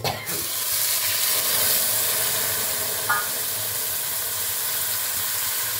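Water added to thick cooked dal in a hot pan, a loud hissing sizzle bursting up at once and then settling into a steady, even steam hiss, close up with a small clink partway through, no voices.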